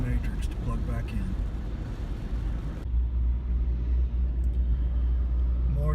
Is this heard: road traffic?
yes